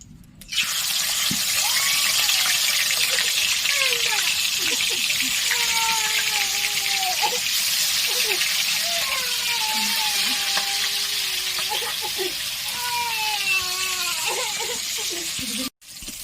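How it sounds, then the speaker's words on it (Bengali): Rohu fish pieces, slipped one at a time into hot mustard oil, sizzle and spit in a steady, close, loud fry that runs throughout, with a few squeaky scraping touches on top and a brief drop near the end. "তেলটা আমার গরম হয়ে গেছে। এবার আমি মাছগুলো একটা একটা করে ছেড়ে দেবো।"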